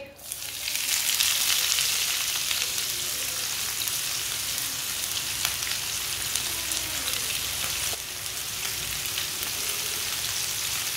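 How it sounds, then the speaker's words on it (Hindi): Chopped onions sizzling in hot oil in a pan, a dense, steady hiss that starts loud and holds evenly throughout with faint stirring, and no one speaking. "कटे हुए प्याज डाल लेंगे।"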